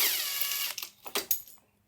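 Power tool taking out the single exhaust silencer bolt on a CR80R dirt bike, heard as a close, steady whir for under a second, followed by a few metallic clanks and knocks with no talking.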